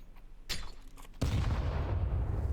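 A grenade goes off in a Counter-Strike match. One loud, sharp blast is followed by a booming rumble that lingers under a quieter burst of earlier gunfire.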